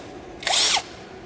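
A cordless STR impact drill with a detachable head whirs up and spins down in one short, high-pitched burst against a quiet background.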